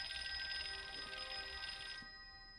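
A toy phone rings in a TV drama scene, a bright trilling bell tone repeating steadily for about two seconds before cutting off, with faint room noise remaining.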